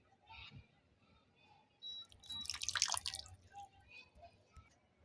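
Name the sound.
milk and vanilla essence poured into cake batter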